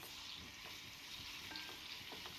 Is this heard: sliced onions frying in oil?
yes